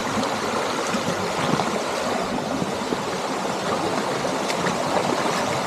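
Stream water flows steadily with a continuous, broadband rush and trickle along a trail with stairs, close and even throughout with no voices.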